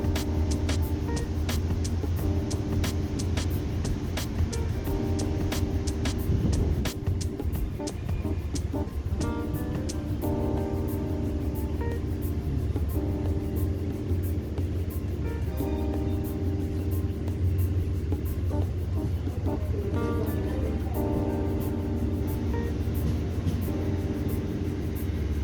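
An Amtrak Empire Service train on the Hudson River line between New York and Croton-Harmon pulls away with a steady, loud rumble and roar, punctuated by faint rattles and clicks, continuous throughout.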